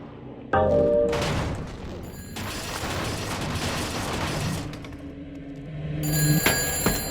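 An old telephone bell rings in the horror action game Shadows of the Damned, a bright repeated trill cutting in and out over loud, busy game effects and dark ambience, ending in a sharp burst.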